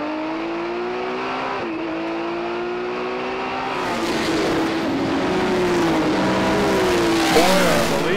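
Vintage race cars, including a 1958 Alfa, pass on the track at a motorsports reunion. Engines drone steadily, then swell louder as cars sweep by with rising and falling pitch, under faint commentary.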